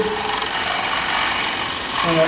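A woodturning scraper cuts the inside of a wooden scoop spinning on a lathe at a woodturners guild demo, a continuous close rasping scrape over the motor's hum that eases off near the end.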